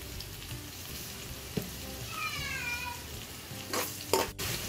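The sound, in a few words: stirring onions and chilies frying in a pan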